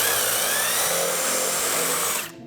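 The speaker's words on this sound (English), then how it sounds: "All you do is hold your drill." A power drill bores holes into a board with a loud, steady whine that holds for about two seconds, then stops abruptly.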